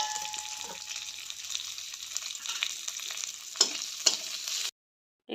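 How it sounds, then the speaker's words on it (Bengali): Potatoes and papaya pieces sizzling in hot oil in a pan, a steady crackling fry held throughout, with a couple of sharper spatters and stirring clinks near the end before it cuts off. "এখানে পেঁপে আর আলুগুলো ভেজে নিলাম আলাদা আলাদা করে"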